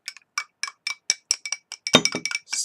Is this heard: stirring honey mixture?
yes